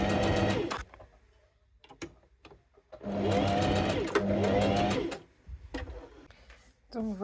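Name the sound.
sewing machine stitching a fabric pencil case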